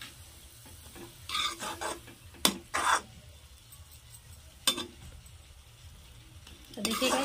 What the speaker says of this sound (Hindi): इस तरह से हम सारा सब्जी मिक्स कर लेते हैं